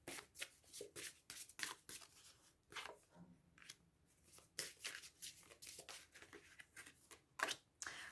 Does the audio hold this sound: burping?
no